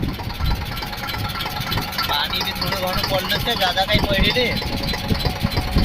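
A tractor engine runs steadily while a cultivator plows a farm field, a continuous mid-range rumble heard close up beneath ongoing talk.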